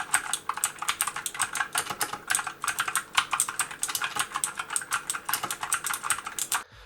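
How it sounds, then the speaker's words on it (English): Rapid, loud clacking of a budget RGB mechanical keyboard being typed on continuously, dense and close with no pauses or voices. "I've used mechanical keyboards in the past and they are quite noisy, but this one is just unbearably loud"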